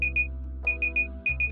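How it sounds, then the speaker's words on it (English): The Combat BRS v5 HIVEC heating system sounds its over-temperature alarm as a series of short, high electronic beeps in pairs and triplets over a steady low hum. "an audible alarm will be activated"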